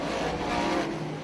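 A DIRTcar 358-Modified race car spins on a dirt track, with a steady, loud engine roar and tire noise washing over the track for the whole moment.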